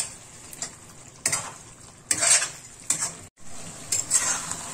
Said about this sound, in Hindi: इसे वापस हम भून लेंगे ताकि ये क्रीम अच्छे से इस ग्रेवी में मिक्स हो जाए